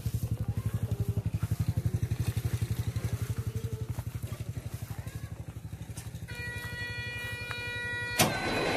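A Caterpillar 140K motor grader's diesel engine runs close by with a steady, rapid low throb that eases slightly over time, then a brief sharp clunk near the end.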